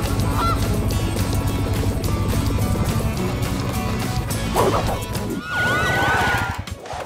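A cartoon goose honks loudly in a PAW Patrol rescue scene, blaring honks over busy music and effects, rising to a strong burst of calls toward the end.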